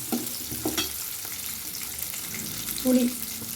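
Tamarind and ponnanganni spinach greens sauté in a pan for a keerai chutney, a soft continuous sizzle with a few stirring scrapes and small clunks, close and fairly quiet.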